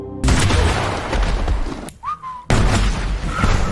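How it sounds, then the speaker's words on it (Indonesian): Film scene with a dynamite explosion and gunfire: loud bursts of blasts and shots start abruptly, break into a short quiet gap with a whistling tone, then slam back in at full loudness. "Sayangnya Wiley pun tewas ditembak oleh Rufus tepat ke arah dinamit di kantongnya."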